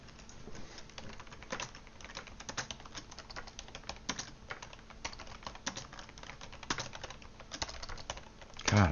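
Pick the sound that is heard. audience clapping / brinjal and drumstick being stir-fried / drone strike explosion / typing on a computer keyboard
typing on a computer keyboard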